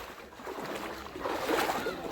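Footsteps wading through knee-deep flood water on a submerged village road in Raigad, Maharashtra, with continuous sloshing and splashing close by, growing louder toward the end.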